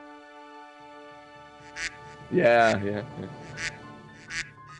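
A duck quacking sound effect played from a soundboard during a tabletop Dungeons and Dragons session, a loud close burst of nasal quacks, with a voice briefly speaking around it.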